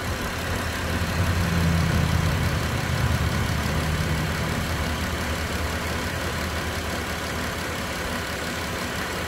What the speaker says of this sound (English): I'm gonna step on the gas a little bit.